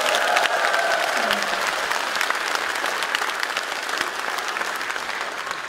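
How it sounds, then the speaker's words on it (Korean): Audience applause at a pansori performance in Jeju, Korea: a steady, dense wash of clapping from a crowd, loud and sustained throughout, slowly thinning slightly toward the end. "여기 고수님한테도 박수 한번 주세요"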